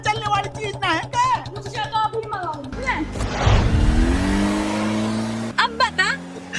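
A car engine revs and roars in a strong burst with a rising whine and possible tire squeal, set between stretches of people talking before and after.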